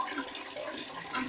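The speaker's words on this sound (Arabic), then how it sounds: "دابا من بعد غادي ندير فيه واحد الماء" Water pours into a pot holding washed raisins during the making of a Moroccan sweet couscous dish, giving a brief, soft, steady splashing rush with no talking.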